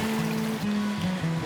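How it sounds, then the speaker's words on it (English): Flowing water rushes steadily beside an outdoor reading spot under a big tree at a summer camp, a close, continuous wash of sound with a low tonal hum running through it. "I don't know if you guys will be able to hear me over the water"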